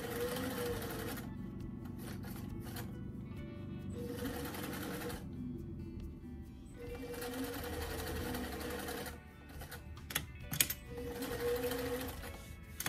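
A sewing machine stitches a sleeve into a fuzzy doll coat in short, close bursts of rapid whirring, starting and stopping several times with quiet pauses between runs.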